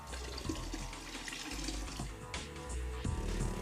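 Water running steadily into a Mr Deburr 300DB vibratory finishing machine, a continuous broadband rush at a constant close level with a few small splashes and knocks.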